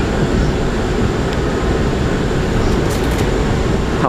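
An R179 subway train on the A line heading toward Brooklyn, heard as a loud, steady, dense rumble and roar of cars running on track, with faint squeals late in the passage.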